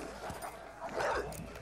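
Dogs mauling a man in a brutal fight, with snarling, yipping and whimpering in a steady, close, noisy rush that peaks briefly near the end.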